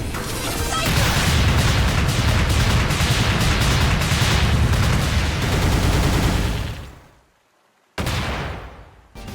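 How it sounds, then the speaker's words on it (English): A boss blowing up in a retro Sonic-style platformer, a dense, loud barrage of booming, crackling explosions lasting several seconds before cutting to silence, then one more brief blast. "the way the bosses explode are brutal"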